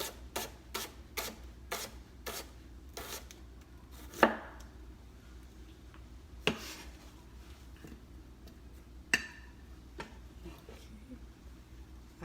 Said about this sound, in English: use a sharp knife while you're slicing it so you won't cut your fingers off